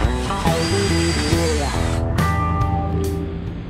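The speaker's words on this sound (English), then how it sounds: "I'm going to go on the back side and drill through from the back side with the half inch." A power drill whirs loudly close by, its pitch shifting as it bites and bogs down through metal with a half-inch bit, then trails off with clicks.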